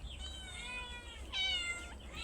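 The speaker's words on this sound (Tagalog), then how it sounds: "Kasi naririnig nyo naman, ganito guys pa nang bibigay ako sa aking alagang pusa" Pet cat meowing at feeding time, two drawn-out close meows, one after the other, over a faint low background hum.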